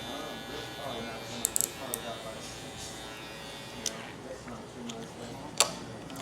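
An electric hair clipper trims a beard to cut a fade. Its steady buzzing drone runs close up, broken by a few sharp clicks and taps, and a voice speaks over it.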